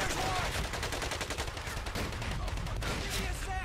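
Rifle gunfire in the World War II video game Medal of Honor: Pacific Assault, a dense, continuous barrage of loud, rapid shots and bangs with battlefield noise, no gaps across the stretch.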